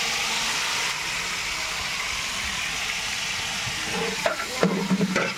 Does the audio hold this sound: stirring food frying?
yes